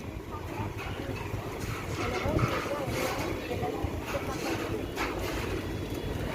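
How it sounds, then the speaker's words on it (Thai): A boat crossing a river churns along with a steady low rumble and splashing water, with wind buffeting the microphone and voices talking on board. "ขึ้นเรือข้ามฝั่งนะคะ ข้ามฝั่งไปทางแม่น้ำฝั่งทางฝั่งฝั่งทน"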